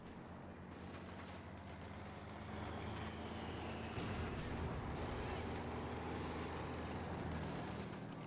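In a WWII strategy game, a mortar pit lobs shells amid a battle: dull booming thumps and scattered gunfire over a constant rumble of engines and combat, fairly dense and continuous.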